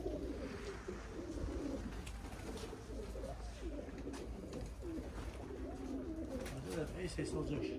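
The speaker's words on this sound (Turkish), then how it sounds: "Zeytin ağaçları içinde dönük güvercinlerimiz." Tumbler pigeons coo softly and repeatedly among olive trees outdoors, a low, steady cooing that carries on under people talking.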